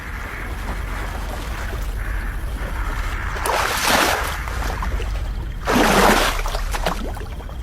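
Cartoon sound effect of a wooden boat rowed across a dark marsh, a continuous watery ambience broken by two louder sloshing oar strokes, with no voices.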